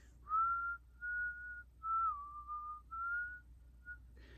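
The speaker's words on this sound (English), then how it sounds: "Start whistling this random tune." A person whistles a slow tune, a handful of clear sustained notes with short gaps between them, soft and alone against a quiet background.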